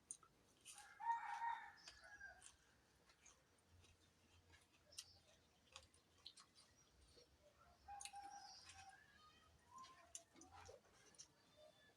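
Chickens and a rooster nearby, with a clear crow early on and scattered clucks and chirps through a quiet rural setting, faint distant sounds between the calls.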